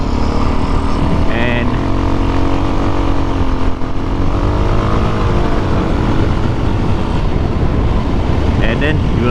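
A Suzuki DRZ 400SM motorcycle is ridden, its engine droning loud and close with shifting pitch and rushing wind throughout, while a rider talks over it.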